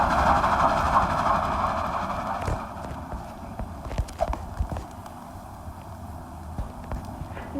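Steady clip-clop of horse hooves in the video game Dead Rails with a rumbling background, the hoof beats loud at first and then settling into lighter, irregular steps.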